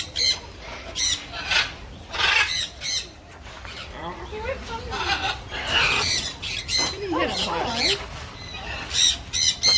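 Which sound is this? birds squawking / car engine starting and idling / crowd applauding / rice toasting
birds squawking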